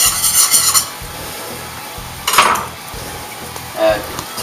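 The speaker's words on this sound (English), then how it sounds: "now for the sauce, we're going to melt some more butter in here." Butter melting in a pan for a sauce, a steady soft sizzle with occasional louder scraping clinks of a utensil against the pan, close and without talk.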